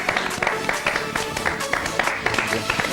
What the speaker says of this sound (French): Donc on va l'applaudir s'il vous plaît.